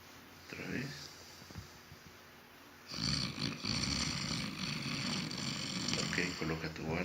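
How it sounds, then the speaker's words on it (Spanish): A person snores on purpose while testing an anti-snoring oral appliance. After a quieter opening, a rough, rasping snore starts midway and keeps going, close and fairly loud. "Ahora sí, mi ronca."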